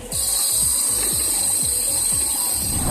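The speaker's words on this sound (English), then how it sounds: "Industrial grinder, A machine equipped with abrasive wheels or discs to remove material or achieve a desired surface finish." An industrial grinder with abrasive wheels runs steadily with a high, constant whine, while a rhythmic mechanical clatter repeats about twice a second, close and loud throughout.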